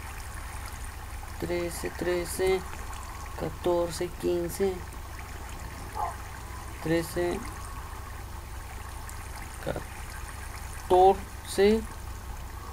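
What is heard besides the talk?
flowing water being collected in a video game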